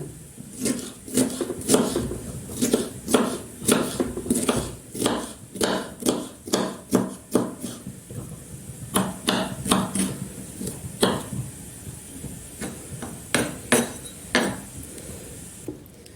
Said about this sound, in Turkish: Şöyle onu da ince ince olacak şekilde dilimledikten sonra doğruyorum.